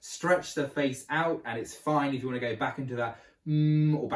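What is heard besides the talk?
No everyday noise stands out behind the speech.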